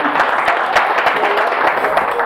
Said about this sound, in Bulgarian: аплодисменти за Нели, ако обичате